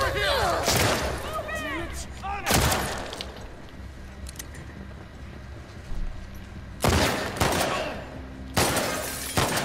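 Pistol gunfire in The Last of Us Part 2, with loud broadband blasts standing out at about 2.5 s and again around 7 and 9 s, heard over game ambience, with voices talking in between.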